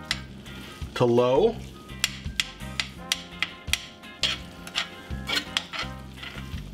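A seasoned stuffed-pepper filling with salt and pepper, stirred in a sizzling frying pan over lowered heat: a steady sizzle under regular scraping taps of a utensil against the pan. A voice speaks briefly near the start.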